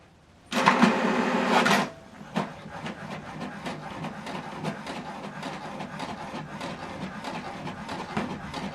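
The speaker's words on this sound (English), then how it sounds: "Now this document is printing." HP Deskjet 2820e inkjet printer printing a document: a loud mechanical whir of just over a second, then a long run of quieter, rhythmic clicks and ticks as the paper feeds.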